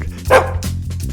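A dog gives one short, fairly loud bark near the start, then quieter yips and whimpers follow over a steady low hum.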